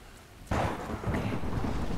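A sudden crack of thunder bursts in and rolls on over steady falling rain in the video game Tomb Raider Definitive Edition, loud and close.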